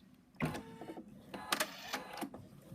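An embroidery machine stitching an in-the-hoop stuffed bunny, close mechanical whirring in short bursts with rapid needle chatter and brief pauses between runs.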